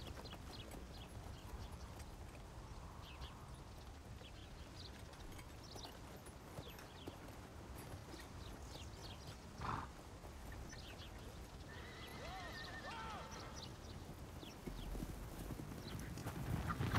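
Horse hooves clip-clop at a steady walking rhythm through an action film scene, with a horse neighing partway through over a noisy outdoor background.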